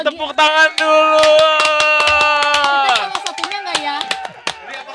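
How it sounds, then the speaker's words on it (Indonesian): Hands clapping during a talk-show discussion about housing plans: a run of sharp, uneven claps sounding under a loud, sustained tonal voice or music, thinning out toward the end. "wow, tepuk tangan dulu"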